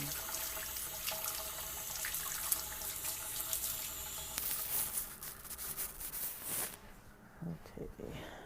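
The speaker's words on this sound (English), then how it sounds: "So I'll wash my hands." Tap water runs steadily into a sink while hands are washed, a continuous hiss that cuts off near the end, followed by light handling noises.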